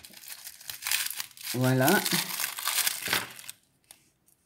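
A parcel being opened, its packaging crinkling and tearing in close, loud bursts over a few seconds before falling quiet, while someone speaks briefly over it.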